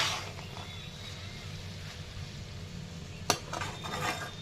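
Sprouted moth beans (matki) are stirred in a pan over low heat for a Maharashtrian bhaji, making a quiet, continuous scraping with a single sharp metallic clink partway through, and no talking.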